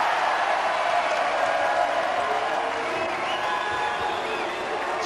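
Crowd in a basketball arena at a 1985 FIBA European Champions Cup game between Kingston and Maccabi, with many Israeli supporters; a steady, loud roar of cheering holds throughout with no sharp peaks.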